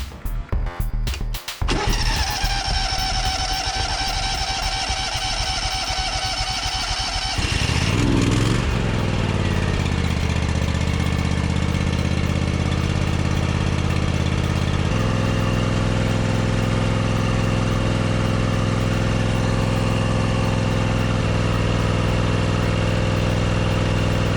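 A John Deere X320 lawn tractor engine cranks and starts with sputtering, then settles into a loud steady idle, its pitch shifting partway through, running continuously with no voices.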